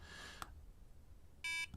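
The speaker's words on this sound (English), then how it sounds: "A little beeping sound." A homemade digital clock built from a soldering kit gives off electronic beeps: one short blip early on, then a sustained tone lasting about a fifth of a second, followed by a brief chirp, all clear against a quiet background.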